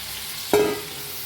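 Ridge gourd stirred into fried masala in a pan: a single sharp scrape of the utensil, followed by a brief ringing tone that fades over a low, steady sizzle.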